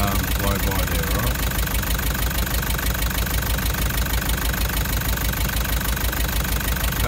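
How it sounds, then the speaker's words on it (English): A car engine with a cracked piston idles with a dense, continuous knocking and heavy mechanical clatter, loud and close throughout with no letup. "That's what it looks like if you've got a cracked piston"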